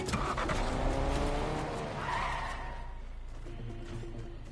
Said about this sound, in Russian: Сейчас машину слышал